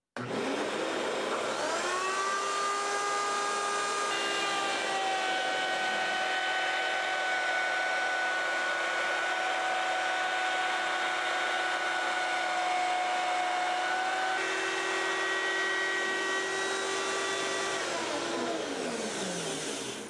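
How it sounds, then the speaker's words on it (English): A router cutting a dado in wood, with dust collection running: a loud, steady whine and rushing roar that rises as the bit spins up, holds with shifting pitch, then winds down at the end, close and alone. "make sure to use dust collection while routing to keep your work area clean and safe"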